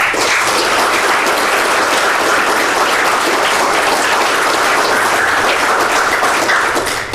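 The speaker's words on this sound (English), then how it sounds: "give them a huge round of applause" Loud, dense applause from a conference audience thanking the event's sponsors, a continuous roar of many hands clapping at close range for about seven seconds without talk.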